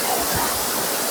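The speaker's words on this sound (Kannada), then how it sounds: "ಇದು ನಮ್ಮ ಕೂರ್ಗ್ನ ಫೇಮಸ್ ಅಬ್ಬೆ ಫಾಲ್ಸ್" Abbey Falls, a waterfall in Coorg, gives a steady, dense roar of rushing water heard from above, continuous and fairly loud with no talking.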